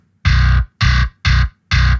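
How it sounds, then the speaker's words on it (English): A bass guitar through a DjinnBass 2 distortion setting chugs out four short, evenly spaced notes, thick and fuzzy with a buzzing top end. "And distortion."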